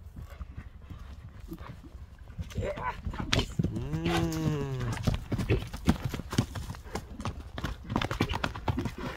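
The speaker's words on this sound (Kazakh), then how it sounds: "Жакшы мына жылоолорун көрсөтүп койчу аттын." A horse walking outdoors, its hooves clopping in a steady close rhythm, joined midway by a loud lowing moo from cattle nearby, with some background voices.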